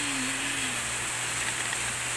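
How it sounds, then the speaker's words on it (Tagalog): Rain grows heavier, a steady, even hiss of falling rain and drops on surfaces filling the whole clip with no talk. "Ayan, medyo lumakas po yung ulan."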